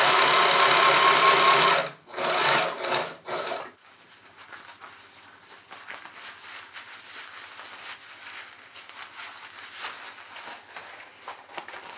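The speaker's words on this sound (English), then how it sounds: "I'm starting sewing in the middle, and I'll go up one side and then turn around and go from the middle to the other side" A sewing machine runs in a loud steady burst as it stitches a zipper into a simple fabric project, stops and restarts in short spurts, then gives way to quieter rustling and handling of the fabric.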